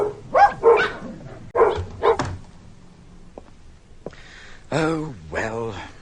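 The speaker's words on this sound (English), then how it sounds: "you foul dogs. Shut up." Several dogs barking loudly and close in repeated sharp bursts, mixed with yips and whimpers, with a voice heard amid the barks.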